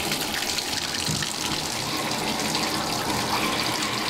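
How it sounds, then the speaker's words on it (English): Running water gushes steadily into a tub as a deer skull is rinsed off, a continuous close splashing flow for several seconds. "So we'll get it into the tub and rinse it off"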